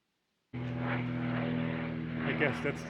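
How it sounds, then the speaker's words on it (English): A propeller airplane that ferries hikers drones over a Tasmanian national park. After half a second of silence the engine sound starts abruptly, then holds as a steady, fairly loud hum that swells slightly near the end. "I guess that's the airplane that drops off the hikers for the 6 to 8 days walk"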